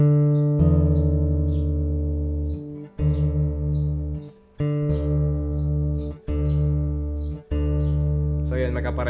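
A guitar string is plucked repeatedly while being tuned down to drop D, each sustained tone ringing loud and close with small pitch shifts between plucks.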